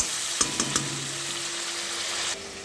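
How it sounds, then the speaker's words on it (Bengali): Prawns fry with turmeric in a pan, a steady close sizzle with a few brief clatters early on, dropping slightly in intensity near the end. "চিংড়ি মাছটা হালকা ভাজা ভাজা হয়ে যাবে।"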